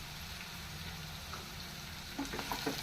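Curry leaves frying in a brinjal and pea curry give a faint, constant hiss of sizzling oil, with a few small pops and crackles toward the end.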